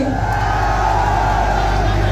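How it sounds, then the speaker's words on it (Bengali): A large audience at a live show with actress Apu Biswas sends up a continuous, loud roar of cheering and whooping that fills the space without pause. "এর জন্য একটা জোরে করতালি"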